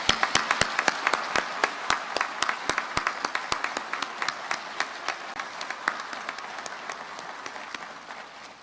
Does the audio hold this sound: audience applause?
yes